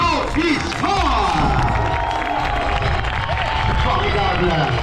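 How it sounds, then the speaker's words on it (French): A crowd at an outdoor stunt show in Amilly claps and cheers for the stunt drivers, a dense, loud wash of applause and shouting, with voices calling out over it throughout. "On va leur donner un tonnerre d'applaudissements."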